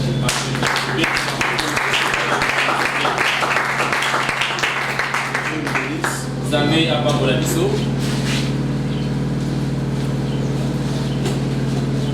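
A church congregation bursts into dense, loud clapping that roars for several seconds and then thins out, while a steady tonal hum and voices carry on underneath.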